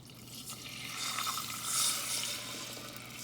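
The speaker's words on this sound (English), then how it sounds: "I'm just letting it melt the butter" Butter melting in a pan with a cup of water while making chocolate cake, giving a steady soft hiss and faint sizzle at moderate level, with no talking.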